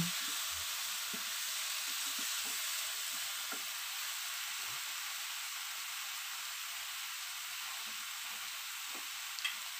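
Steady, crackling sizzle of chicken feet frying in hot oil, with faint scattered clicks and taps from a pan throughout.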